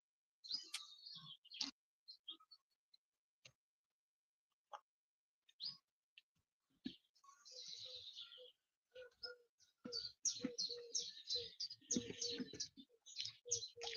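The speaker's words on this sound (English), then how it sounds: "Lots of birds singing now the sun's coming up." Birds singing at sunrise, with scattered chirps and short song phrases at first, then a denser, busier chorus of overlapping calls, fairly close and clear against a quiet background.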